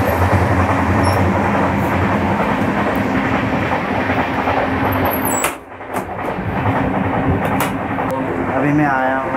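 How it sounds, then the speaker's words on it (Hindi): An express train pulls out of Kharagpur Junction after a five-minute halt. Heard from inside a 3rd AC economy coach, a loud steady rumble of rolling wheels fills the clip, with a short dip and a few clicks partway through. "हमारी ट्रेन देखिए खड़गपुर जंक्शन से 5 मिनट हॉल्ट के बाद अब"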